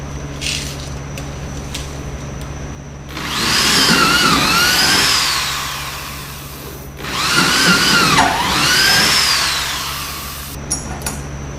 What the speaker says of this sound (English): Just got to drill the front ones in.